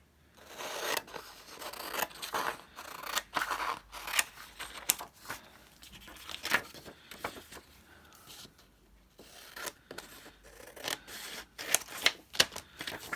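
Scissors cut through good quality paper in a close, quiet room, giving a long series of sharp crisp snips and rustles in uneven bursts with short pauses.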